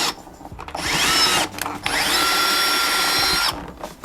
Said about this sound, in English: this is the brushless drill from Snap-on